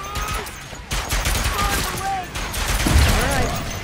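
Rapid bursts of weapon fire in the Ratchet & Clank: Rift Apart action game, with overlapping shots and blasts forming a dense, loud barrage over busy game effects, with brief character voices mixed in.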